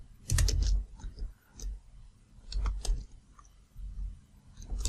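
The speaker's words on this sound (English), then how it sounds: "I'll go ahead and start typing them out" Keys clatter on a computer keyboard in short bursts of clicks with pauses between, close and clear, with no one talking.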